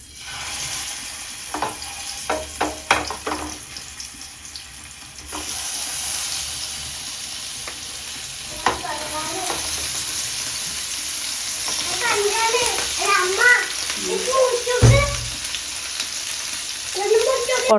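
Fish frying in coconut oil in a pan, a continuous sizzle with scattered clatter early on and some background voices and household noise later.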